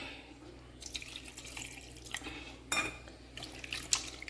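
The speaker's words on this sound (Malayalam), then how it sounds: "കുറച്ച് വെള്ളം കൂടെ വെച്ച് കൊടുക്കും" Water is added to a pot of sardine curry: soft, intermittent pouring and splashing with a few light clinks, faint and fairly close, with no talking.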